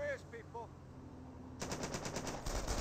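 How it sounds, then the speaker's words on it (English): Engineer squads in Company of Heroes open fire on Panzer Grenadiers. Sustained, rattling automatic gunfire starts abruptly after a few short electronic tones and continues loudly to the end, with no talk. "the engineers just turn around and start shooting the Panzer Grenadiers"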